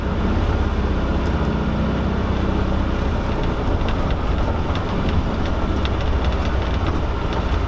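A 1964 VW Beetle with a four-speed floor shifter rolling along, a steady, loud broadband rumble and road noise running unbroken throughout.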